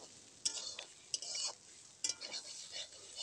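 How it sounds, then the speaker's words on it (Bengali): Cauliflower and potatoes frying in a pan, stirred repeatedly, giving a soft steady sizzle broken by three sharp scraping strokes of a spatula against the pan. "এজন্য বারবার ঘন ঘন সুন্দর করে নাড়াতে হবে।"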